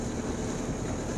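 Boat crossing choppy water on Lake Maninjau in West Sumatra, a steady broadband wash of wind and water with no distinct impacts, heard alone.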